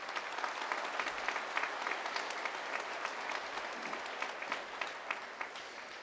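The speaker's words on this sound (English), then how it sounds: "Let's give Pat Singleton a round of applause." A crowd gives sustained, even applause at a summer OSU IT commencement ceremony, with many hands clapping steadily for several seconds and no one speaking.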